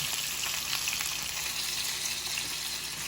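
Breaded catfish fries in a pan with a loud, continuous, close-up sizzle and hiss that holds steady throughout, with no voices.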